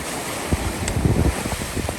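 Wind rushes over a sailboat rounding a point off Vancouver Island, mixed with waves and low buffeting gusts on the microphone; steady and fairly loud with no voices.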